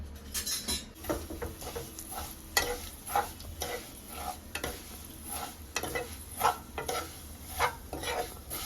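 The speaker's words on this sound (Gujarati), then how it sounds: "ગેસની ફ્લેમ ધીમી રાખીને ધીમા તાપે સેવ ધીમા શેકી લેવાનું" Vermicelli roasting in desi ghee in a pan over a low gas flame, stirred with soft, repeated scraping strokes over a faint, steady sizzle, fairly quiet, with no voices.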